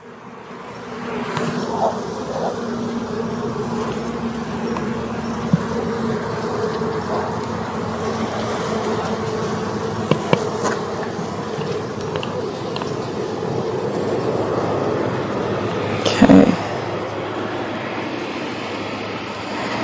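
Honey bees at a hive on a London farm, workers returning laden with dark green pollen, make a steady, continuous buzzing drone throughout, with a few brief knocks and rustles near the end.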